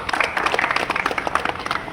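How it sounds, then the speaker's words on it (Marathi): A gathered audience claps in welcome at a Samata Sainik Dal training camp, a dense, steady patter of many hands lasting the whole stretch without talk. "एकदा आपण टाळ्या वाजून तुमच्या सगळ्यांचं स्वागत"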